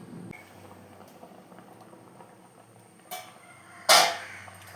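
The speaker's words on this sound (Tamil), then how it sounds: "ஊற்றி இதை நல்லா கொதிக்க விடணும். மூடி நல்லா கொதிக்க விடணும்." Chicken simmering in water in a lidded pot, a soft steady bubbling hiss throughout, with a brief clatter near the end and one louder sharp burst of sizzle or lid noise just before it closes.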